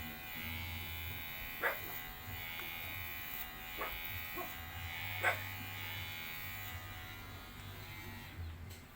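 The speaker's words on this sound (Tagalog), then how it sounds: "Kasi siya lang yung nagugupit ng sarili niyang buhok" Electric hair clippers buzz steadily and faintly as a man cuts his own hair into a short military-style cut, a continuous low hum with a few brief knocks and a dog barking faintly now and then.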